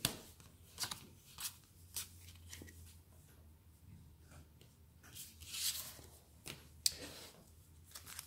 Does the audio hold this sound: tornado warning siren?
no